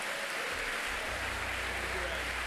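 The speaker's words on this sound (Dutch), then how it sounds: "Geef een applaus aan hem." A church congregation applauds during a Sunday service, a dense, steady clatter of many hands filling the whole short stretch at close range.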